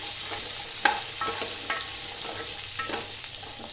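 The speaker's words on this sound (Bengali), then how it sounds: "এবারে আমি কুমড়োগুলো দিয়ে দিচ্ছি, একটু নাড়াচাড়া করে নিই" Pumpkin pieces fry in a pan with masala, a soft continuous sizzle broken by spoon scrapes and stirring knocks, close but moderately quiet, no talking.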